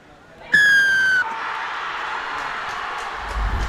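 A sharp whistle blast rings out over a Thomian crowd at a schools rugby match between S. Thomas' College and Royal College, followed by a steady roar of crowd noise as a try is awarded.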